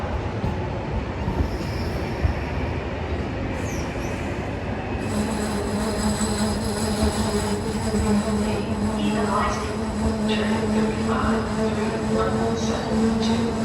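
A train pulls into platform 2 at Venezia Mestre station, wheels squealing and rolling in a continuous, loud rumble along the track, with an announcement voice over the station noise.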